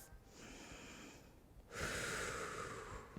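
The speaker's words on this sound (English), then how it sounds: "Let's take 3 more breaths." Slow, deep breaths during a yoga recovery stretch, a soft inhale followed by a longer, louder airy exhale, close and quiet with no talking.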